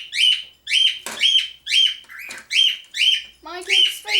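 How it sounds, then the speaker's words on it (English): Small bird chirping indoors during a model kit build, a rapid series of about nine repeated high sharp chirps, loud and close, with a voice briefly audible underneath. "Would you not worry about the bird?"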